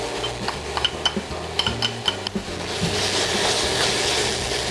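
Onion stir-frying in a pan for kimchi fried rice, with a series of close metallic clinks and scrapes from a utensil over a soft sizzle that swells into a steady hiss.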